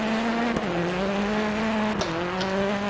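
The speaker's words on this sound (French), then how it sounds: "Est-ce que vous entendez bien les voitures?" Racing car engines in the DiRT Rallycross video game, a steady sustained engine drone with harmonic whine that dips at shifts, continuous and loud with no talk.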